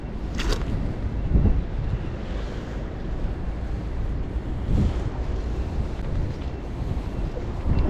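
Strong wind roars across an open outdoor spot near surf, a loud, steady low rush with a few stronger gusts hitting the microphone, and no one speaking.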